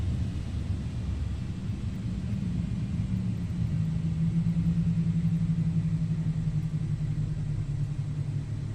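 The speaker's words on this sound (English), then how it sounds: "I'll turn the sounds up and I'll give you a beautiful wing view of engine shutdown." Simulated engines of a PMDG 777-300ER airliner in Microsoft Flight Simulator spool down at shutdown. A loud, steady low rumble with a droning hum continues throughout, heard close and alone with no talking.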